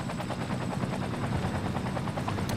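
A helicopter in Cities Skylines gives off a steady, fast rotor chop, a continuous pulsing drone at even loudness throughout, alone with no speech.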